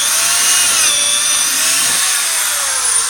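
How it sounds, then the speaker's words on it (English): Power drill spinning in reverse to back out of a hole in a Pentair Whisperflo pool pump front end bell, a steady high-pitched motor whine heard close and alone for a few seconds. "Now I'm going to reverse my drill out."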